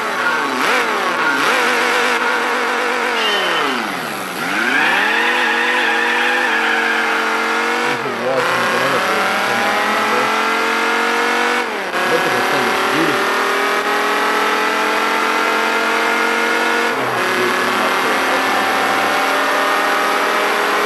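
A 99 GTS sports car engine in Gran Turismo 4 revs hard and climbs through the gears, dropping in pitch at each shift, loud and steady throughout.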